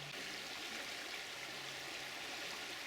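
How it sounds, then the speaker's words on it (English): A small beck in North Yorkshire flows beneath a little footbridge, making a steady, gentle rushing and trickling murmur. The water is moderately close and no one speaks. "This beck in front of me runs down eventually into the River Swale,"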